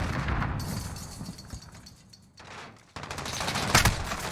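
Rapid automatic gunfire and a grenade blast in a competitive Modern Warfare esports match, dense bursts of shots early, a quieter lull, then renewed loud firing with a sharp explosion.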